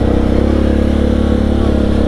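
A Suzuki KingQuad ATV rolls slowly along, its engine a steady low rumbling drone heard up close without change in pace.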